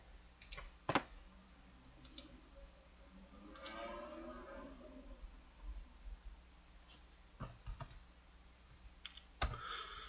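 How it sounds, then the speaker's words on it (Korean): Quiet, scattered clicks of keys and a mouse tap out in small clusters against a faint background hum, with no one talking. "저는 지금 이렇게 선택을 할 때 지금 키보드 마우스를 이용해서 하고 있어요"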